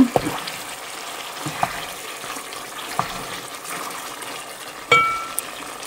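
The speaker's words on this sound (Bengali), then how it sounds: "এইবার আমি রান্নার জন্য পানি দিয়ে দেব।" Water pours into a pot of simmering spiced beef bhuna, giving a steady hissing rush with a few knocks and a sharper splash near the end.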